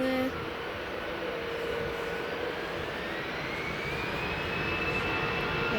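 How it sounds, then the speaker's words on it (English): A plane's engines hum steadily as it lines up on the runway at Manchester Airport, a continuous broad roar with a slowly rising whine, heard from inside the aircraft, unbroken and moderately loud. "aircraft will be doing 140 nautical miles. So then just about line up on the runway."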